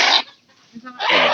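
A hen clucks close by in short loud bursts at the start and again at the end, with a quiet gap between, on a farm where the hen survived after being caught.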